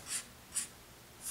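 A formula for an ionic compound, aluminium fluoride, is written out in a beginner chemistry lesson. Three short, faint, hissy strokes come at a steady pace, close up in a quiet room with no voice.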